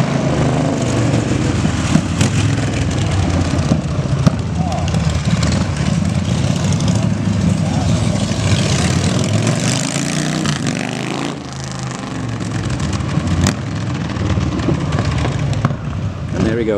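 XL1250 scrambler motorcycle, freshly assembled with untuned jetting, running and being ridden, a steady loud engine drone with rumbling low end and occasional rises, continuous throughout with possible voices mixed in.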